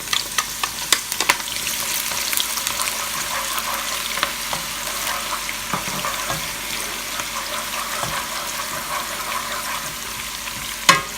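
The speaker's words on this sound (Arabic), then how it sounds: "رح اضيف البصل هلا واستناه لحتى يتحمص معي بشكل جيد" Onions frying in hot oil in a pot, a continuous close sizzle with occasional stirring clinks and scrapes and no talking.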